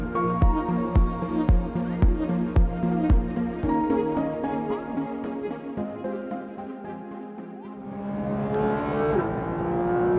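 A 991.2 Porsche 911 GT3 RS revs hard and close, with sharp rhythmic engine pulses at first, then a high rising howl as it accelerates and the revs climb toward nine thousand rpm.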